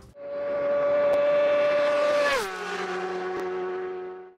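A 600cc inline four-cylinder engine holds a high, steady drone, then drops in pitch to a lower idle hum, loud and close with no talking.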